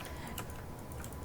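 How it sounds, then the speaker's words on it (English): Keyboard typing picked up through a streamer's audio setup, a steady run of soft, close clicks with a few harder keystrokes standing out, no voices over it. "She's routing her audio through her keyboard, so the harder she Yeah, hits."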